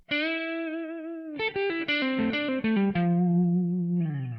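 A distorted electric guitar plays the opening lick of a guitar solo: a sustained bent note, a quick run of picked notes, then a long held note sliding down.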